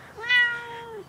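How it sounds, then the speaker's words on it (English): A single drawn-out cat meow, clear and close, rising then slowly falling over about a second. "Oh, hey, let's go check out my cat."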